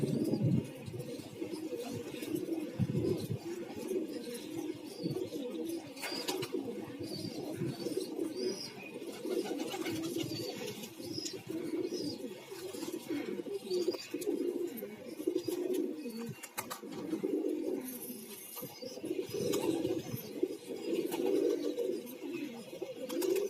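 Pigeons coo steadily in low, throaty murmurs, several birds overlapping in a continuous, fairly close chorus with no talking.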